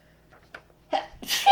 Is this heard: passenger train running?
no